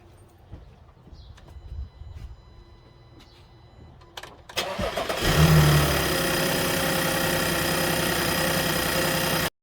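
A 2010 Audi Q5 with a 3.2L V6 engine cranks briefly and catches after a quiet stretch with faint bird calls, then settles into a steady, moderately loud idle.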